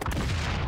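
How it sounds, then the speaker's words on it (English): A grenade blast in the shooter game XDefiant, a loud, dense burst of booming low rumble that fills the whole short moment. "Grenades away!"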